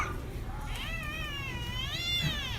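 A mother cat with her kittens meows in a run of rising and falling drawn-out calls, fairly close, over a low steady background hum.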